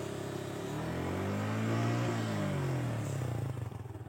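Suzuki Gixxer motorcycle on its original stock exhaust, ridden in second gear: a steady, loud engine drone close by that swells in pitch as it revs up, then eases back, with no talking over it.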